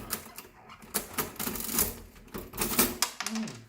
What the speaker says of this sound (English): this is like a very old-fashioned cash register type. Make it ching again.